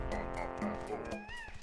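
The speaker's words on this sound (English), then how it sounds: "That's such a cliche little cat noise, isn't it?" A cartoonish cat meows in the N64 video game Banjo-Tooie. Several short, bright meows come in quick succession, close and clear, with no talking.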